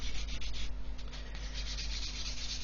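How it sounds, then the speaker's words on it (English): Steady abrasive rubbing of sandpaper on a plastic part from an Airfix 1/24 F6F-5 Hellcat model kit, close and continuous with a faint low hum underneath. "So just going to keep sanding this away."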